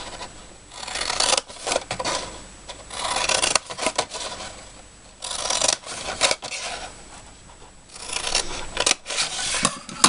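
Card being cut and scored for a hexagon gift box, with repeated bursts of rasping, scraping strokes up close, broken by short pauses and no voices.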